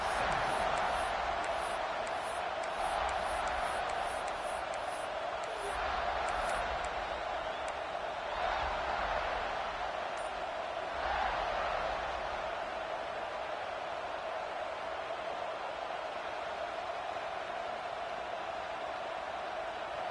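A football stadium crowd at a Nebraska game makes a steady, broad roar that swells in a few waves, with a commentator's voice talking over the continuous crowd noise.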